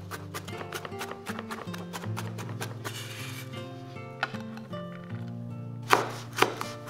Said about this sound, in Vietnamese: băm nhuyễn thêm 30g tỏi để cho vô nước mắm nè.